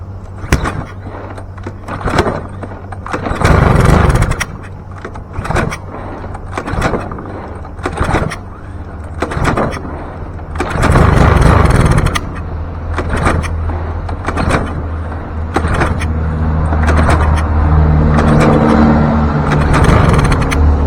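A Craftsman M230 lawn mower, refilled with fresh gas after old yellowed fuel was drained, sputters through several loud bursts as it tries to start, then settles into a steady, close engine drone.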